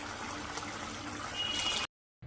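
Water poured into soaked tamarind for Andhra fish curry, a soft close trickling and liquid pour that runs steadily, then cuts off abruptly near the end.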